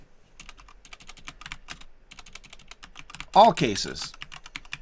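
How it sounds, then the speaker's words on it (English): Typing on a computer keyboard during Python homework work, quick light clicks running under a person's talk, with a louder burst near the end. "you don't want to watch me type it"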